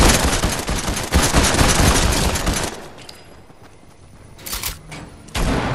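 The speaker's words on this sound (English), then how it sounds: "Getting shot at by real people too." Dense bursts of gunfire in the video game Fortnite, rapid and loud volleys for a few seconds, a quieter lull, then more sharp shots resuming.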